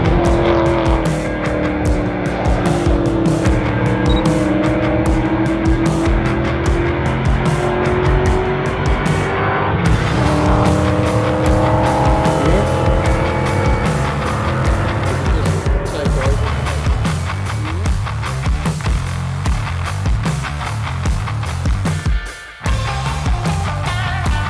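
Race cars in a pack including 5-litre cars, engines roaring continuously with gear changes and occasional tyre squeal, loud and sustained, with commentary talk running over it.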